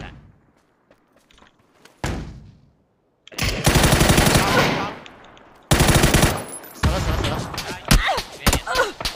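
Loud bursts of automatic gunfire in a shooter video game, rapid rattling volleys after a few quieter shots, separated by short pauses.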